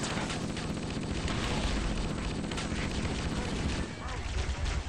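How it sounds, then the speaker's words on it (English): A big explosion in the video game Halo CE, a loud, dense roar and crackle of blasts and gunfire, with a brief dip near the end and talk mixed in. "Big explosion directly in his face."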